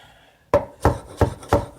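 A kitchen knife chops carrots on a cutting board for stew peas, four crisp, evenly spaced thuds close by after a quiet moment, with no talking.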